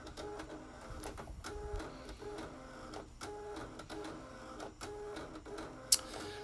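A Canon StarWriter Jet 350C, a mid-1990s personal publishing system, printing: a steady mechanical chatter of the print head sweeping back and forth in repeated passes, close and moderately loud, with a sharp click near the end and no talking.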